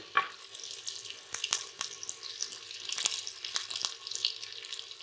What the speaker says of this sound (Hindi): अब हम इसमें ये जो टमाटर काटे हुए हैं ये डालेंगे और साथ ही ये मिर्चें वो काटी हुई 3-4 वो डाल देंगे।